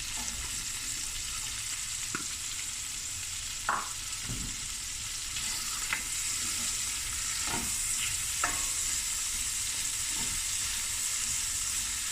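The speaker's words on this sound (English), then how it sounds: "Now I'm going to put in all the onions." Onions fry in a pot for a Cape Town-style seafood boil. A constant, moderately close sizzle runs throughout, broken by a few soft stirring scrapes, with no one talking.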